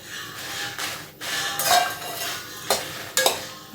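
Dry red chilies tossed and stirred in a hot, oilless kadai: scraping and clattering of a ladle against the metal pan, with several sharper knocks and rattles near the end, close by.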